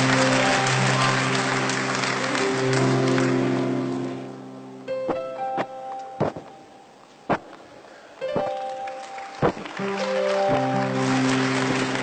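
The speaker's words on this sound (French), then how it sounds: "Applaudissez." An audience at a slam poetry performance breaks into dense applause that swells and then fades within a few seconds, giving way to sustained tones and scattered sharp knocks.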